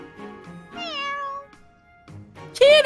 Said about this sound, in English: I never would have guessed a cat this big could sneak into our pantry